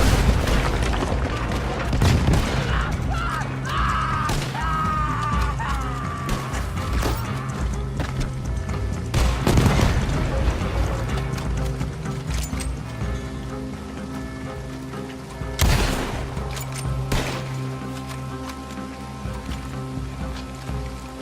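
Gunfire in a Red Dead Online shootout: a few heavy, booming shots spaced several seconds apart, rising over a constant dense wash of game ambience and music.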